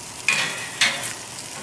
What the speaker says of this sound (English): that's enough for the garlic. Okay, just like that. A little bit of color. We'll put that on the pan.